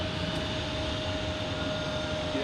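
An Embraer 190 jet at Boston's Logan Airport gives off a steady, fairly distant engine roar with a faint whining tone running through it.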